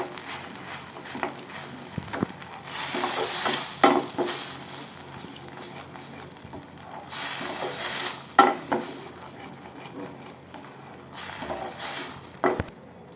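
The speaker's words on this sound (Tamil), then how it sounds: "இந்த இஞ்சி பூண்டு பேஸ்ட் போட்டுக்கோங்க. கொஞ்சமாக போட்டுக்கோங்க. போட்டு நல்லா வதக்குங்க." Ginger garlic paste sautéing in a pan for paneer butter masala, heard as a low sizzle under repeated stirring, with intermittent bursts of louder scraping and clattering of a spoon against the pan.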